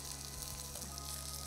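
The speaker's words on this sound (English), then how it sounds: "allow the baigan to cook before I add my rice" Eggplant (baigan) sizzling and frying in a pot before rice goes in, a constant soft crackle at low volume under a steady hum.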